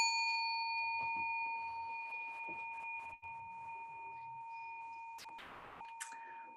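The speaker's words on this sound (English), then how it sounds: "I'm going to lightly ring the bell." A small bell is lightly struck once and rings with a clear, sustained tone that fades slowly in a quiet room, followed by a brief rustling noise near the end.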